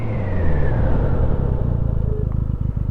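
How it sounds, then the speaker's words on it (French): A 2015 Benelli BN302 motorcycle braking hard without ABS, the engine note falling as it slows, loud and close with wind rumble and a low pulsing idle at the end. "Alors, on va tester le freinage sans ABS."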